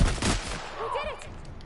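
Shotgun blasts in a PS4 shooter game: a loud booming shot at the start, then a second burst with a ringing tail, over game ambience and faint voice.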